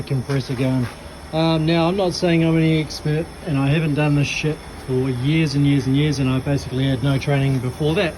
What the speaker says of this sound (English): Excuse the noise in the background. That's the compressor going.